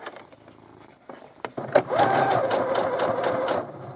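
A sewing machine runs basting stitches along an apron, a few short starting taps followed by a steady close whirring run of about two seconds.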